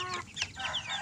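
Bangkok-breed chickens cluck and squawk in short bright bursts at close range, with a rooster-like call rising briefly amid the flock noise.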